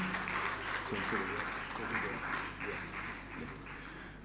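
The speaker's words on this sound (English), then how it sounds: "A big round of applause to the chairman." An audience applauds the chairman at a presidential address, a steady wash of clapping that runs throughout while voices carry beneath it.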